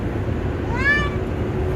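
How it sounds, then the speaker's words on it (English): An upset cat gives a single drawn-out meow from inside a U-Haul moving truck driving through snowy Chester, Vermont, heard close and fairly clear over the steady low rumble of the road and engine. "that was Mocha crying incessantly in Chester, Vermont."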